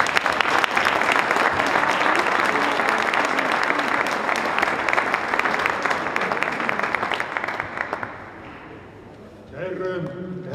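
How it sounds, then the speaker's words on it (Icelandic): An audience at an Icelandic horse-riders' event applauds loudly and steadily for about eight seconds, then the clapping dies away and a voice begins speaking near the end. "Við skulum gefa Guðna gott klapp"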